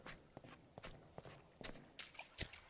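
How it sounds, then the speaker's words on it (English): Wet, slapping footsteps echo through the tiled liminal pool spaces of the horror game POOLS, about a dozen steady steps with a splashy, reverberant edge, moderately close and alone without talk. "Why do the footsteps sound so weird?"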